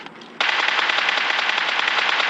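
Loud, rapid automatic gunfire in the video game PUBG, a burst that starts abruptly after a brief quiet and continues as a dense rattling string of shots, close and without talk.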